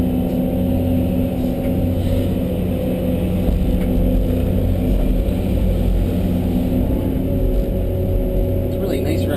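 A John Deere 650 loader moves dirt from a stockpile, its diesel engine rumbling loud, close and steady throughout, with a constant high whine from the machine above the low drone.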